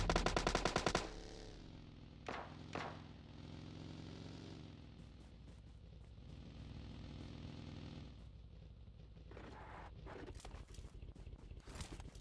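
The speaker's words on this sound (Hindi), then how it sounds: "आपको बॉट फायर सुनने को मिलेगा।" Bot gunfire in PUBG Mobile Lite opens with a loud rapid automatic burst, followed by a couple of single shots and then quieter, scattered rattling and footsteps.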